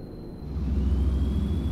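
A thin, steady high whistle rides over the low droning engine of an Autocar truck mod in American Truck Simulator, fairly loud and alone.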